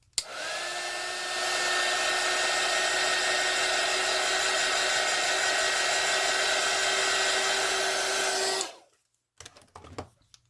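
Hair dryer blowing on an alcohol ink painting of an eye: a loud, steady whir with a stable motor tone that runs for about eight and a half seconds, then cuts off and leaves a few faint handling noises.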